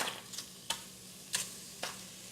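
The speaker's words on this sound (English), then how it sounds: "So it's important when you're browning your meat, you don't want to overcrowd it." Meat browning in a hot slow cooker pan, a faint sizzle with a few sharp ticks and clinks of utensils at irregular intervals.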